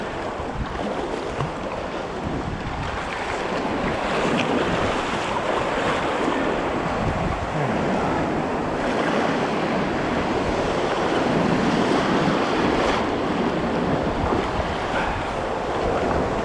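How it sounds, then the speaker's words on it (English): Waves cresting around a kayak near Cave Point, a loud continuous wash of surf mixed with wind buffeting the microphone, close by and with no talking. "Now I need to go that way"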